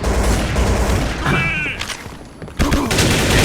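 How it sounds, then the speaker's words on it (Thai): Gunfire sound effects in the shooter game King of Gun, loud bursts of shots with a mechanical click and a brief lull before firing resumes, with faint talk underneath. "เอฟเฟกเสียงปืนเนี่ยคือคุ้นเคยกันดีอยู่แล้วนะครับผม"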